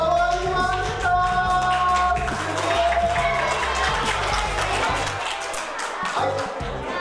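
An audience applauds and cheers after a magic trick turning red wine into white, a crowd's clapping and chatter blended with music and voices throughout.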